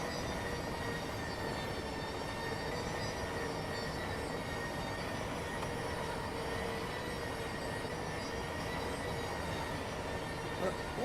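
A Class 700 electric train runs in Train Sim World 3 with a steady rolling drone and a faint high whine layered over it. The sound is continuous and even throughout, with no speech.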